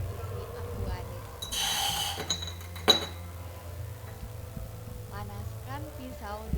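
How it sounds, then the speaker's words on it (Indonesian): Metal lab tweezers clink against a glass bottle of distilled water during plant tissue culture work, a bright metallic tap standing out sharply near the middle, with faint handling noise and a low background hum. "Panaskan pinset di atas bunsen, lalu simpan pada botol berisi aquades."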